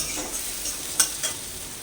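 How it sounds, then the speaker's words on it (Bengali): Onions frying in a pan, a close steady sizzle with a couple of brief stirring scrapes, no voices. "পেঁয়াজটা লাল লাল করে ভেজে নেব"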